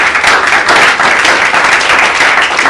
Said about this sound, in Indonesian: Tepuk tangan dulu dong buat